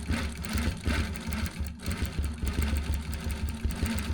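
A Gammill longarm sewing machine runs steadily with a low motor hum and rapid rhythmic stitching pulses while zigzag stitching a Harley T-shirt quilt, close and fairly loud, with one brief dip partway through.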